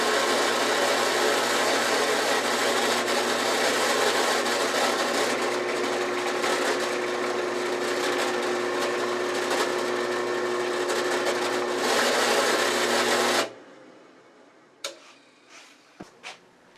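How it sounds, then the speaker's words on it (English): A drill bores a hole for a clamp screw at a PM2014 machine with dust collection, making a long, steady, loud whirring drone. After about thirteen seconds it stops abruptly, leaving a few faint taps and clicks. "Now I drill a hole through for the clamp screw."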